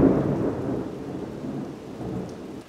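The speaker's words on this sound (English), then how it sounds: "one thing I would miss so much are thunderstorms, like constant thunderstorms" A thunderstorm in Missouri rolls with a deep, rumbling peal of thunder that fades over a few seconds while steady rain patters on surfaces, heard alone without any talking.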